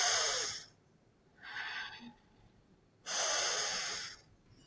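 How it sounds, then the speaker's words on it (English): A person demonstrates deep breathing with full lung engagement, drawing slow audible breaths in three long airy bursts separated by quiet pauses, close and fairly loud with no talking. "In deep breathing, I utilize my entire lung."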